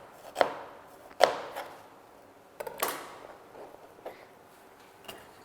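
A knife chops vegetables into even pieces for muthokoi, an Akamba dish, giving a handful of sharp, separate knocks against a board, spaced irregularly and fairly quiet, with no talk.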